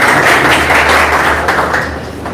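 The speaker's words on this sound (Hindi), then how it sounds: "एक बार फिर अनुराग मिश्रा के लिए आप सभी ताली बजाने का कष्ट करें।" Loud, close audience applause fills an Independence Day flag hoisting ceremony, dense clapping from many hands that tapers off slightly at the end.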